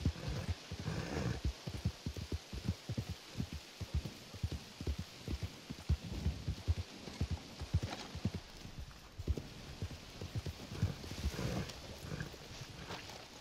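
Horse hooves clip-clop steadily in Red Dead Online, a rapid rhythmic run of close, distinct thuds over a steady rain-like hiss, with a faint whinny or snort and no talking.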